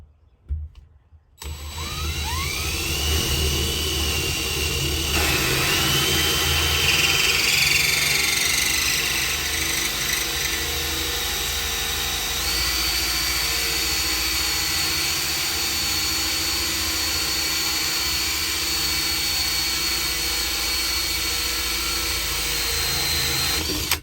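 Milwaukee Dozer 7/8-inch (22 mm) hole saw bit drilling a hole during a Sprinter van bed platform install, a loud continuous whine lasting over twenty seconds with a shifting pitch, close up and without talk.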